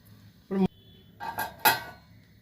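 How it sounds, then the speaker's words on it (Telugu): A metal lid set onto a cooking pot of Andhra-style fish curry, giving a few short clanks and rattles close by, the last one the loudest. "ఇప్పుడు మూత పెడుతున్నాను."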